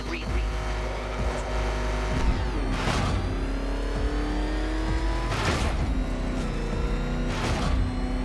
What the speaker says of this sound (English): There's more to this test than just going vroom, vroom really fast.